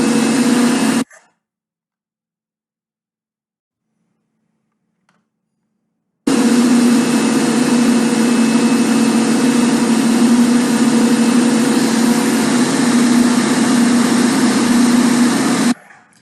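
A Stemac generator engine starts after a short run, cuts out into silence for about five seconds, then fires up again and settles into a loud, steady, droning hum that continues until it stops abruptly near the end.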